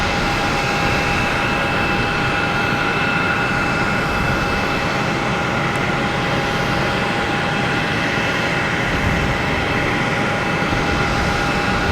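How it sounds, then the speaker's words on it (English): An American Airlines Embraer E175 jet takes off at Boston Logan, heard as a steady, loud broadband engine roar with sustained whining tones, constant throughout with no speech. "Next taking off is American Airlines heading to JFK in E175"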